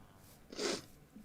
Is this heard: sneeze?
yes